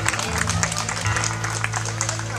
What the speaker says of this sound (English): Give Eddie a big round of applause.